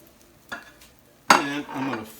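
A pizza omelette with onion and chili verde sizzles in a frying pan, with a soft clink near half a second and a sharper burst of frying and scraping just past one second that fades slowly.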